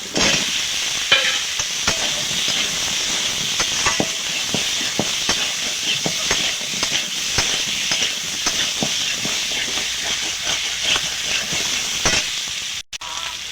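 Potatoes go into a pan of onion, garlic, ginger and tomato frying in oil, making a steady loud sizzle with repeated stirring scrapes throughout, and no talk.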